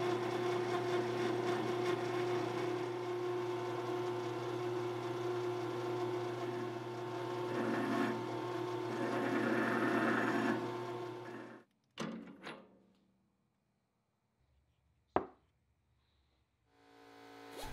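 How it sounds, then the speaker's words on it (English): A lathe turns cast copper and silver tubes with a steady mechanical hum and a whirring tone for most of the stretch. It then cuts off abruptly, leaving quiet gaps broken by a few sharp knocks and clunks. "now I can chuck them up into my lathe and clean them up a bit"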